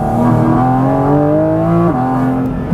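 A 2023 Porsche 718 Cayman GT4 RS engine holds a loud, steady high-pitched wail through a corner, heard from inside the car, with a brief dip in pitch near the end before it resumes.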